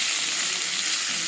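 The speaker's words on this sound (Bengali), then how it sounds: "এবারে ভাজা করে নেব।" Onion and green chilli frying in oil in a wok, a steady broadband sizzle that stays close and even throughout with no voices over it.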